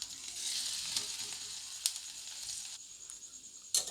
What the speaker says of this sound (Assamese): অলপ কঢ়াকৈ ভাজিছোঁ